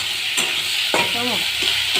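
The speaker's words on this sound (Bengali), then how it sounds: "এবার এটা জিরে কাঁচা লঙ্কা ফোড়ন দিয়ে পেঁয়াজটা ভাজতে দিয়েছি, সঙ্গে টমেটো।" Onions fry in hot oil with a cumin and green chilli tempering and tomato, giving a continuous close sizzling hiss. A spatula stirs through the pan, and a short vocal sound rises in the middle.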